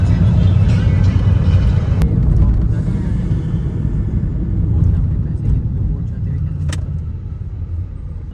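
A car driving on the GT road near Gujranwala, heard from inside as a steady loud engine and road rumble with constant low roar, a couple of faint clicks, and people talking over it.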